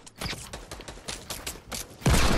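Rapid gunfire from a Fortnite match sounds as a quick string of sharp, evenly spaced shots, ending in a louder, denser burst, with no talk.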